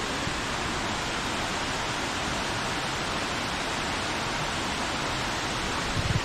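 Heavy rushing water from Khlong Lan waterfall swollen in the rainy season, a dense, steady roar that stays constant and close throughout with no voices.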